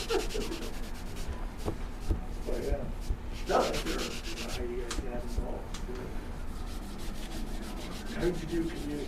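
A shoe being buffed with wax polish during a shoe shine in Denver, a steady scrubbing rub that repeats in quick strokes throughout, close and continuous under people's conversation.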